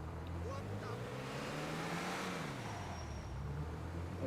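A motorcycle engine revs in a video game, a low droning motor whose pitch rises and then falls, holding steady and fairly quiet throughout.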